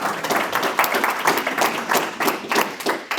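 Audience at a trail coalition presentation clapping in a brief, fairly sparse burst of applause, steady and close with no talking over it.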